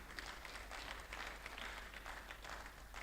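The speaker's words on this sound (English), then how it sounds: "A round of applause for him, please." Audience at a Nigerian Bar Association law week event giving a round of applause, a steady patter of many hands clapping, faint and somewhat distant over a low hum.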